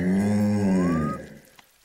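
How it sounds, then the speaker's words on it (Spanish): A single long, low moo from a cartoon cow, loud and close, fading out after about a second. "Ese es el sonido que hizo cuando la vaca se le sentó encima"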